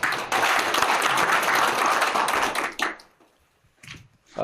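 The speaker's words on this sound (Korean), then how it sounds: "박수 한번 부탁드리겠습니다." An audience at a panel discussion applauds loudly for nearly three seconds, the clapping then cutting off into near silence with a brief stray clap at the end.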